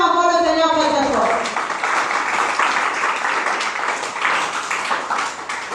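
A church congregation applauding and cheering for the Lord, with a vocal shout at the start giving way to dense, steady clapping that continues loudly to the end.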